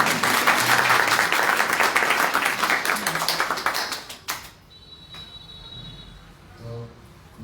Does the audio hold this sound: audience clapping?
yes